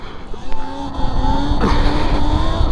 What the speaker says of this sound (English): Let's do a nice little wheelie here, show off for the cause.